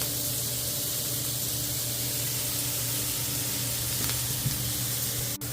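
Sliced peppers and jalapenos fry on a flat-top griddle seasoned with salt, pepper and garlic, giving a steady, even sizzle that runs unbroken from start to finish with no talking over it.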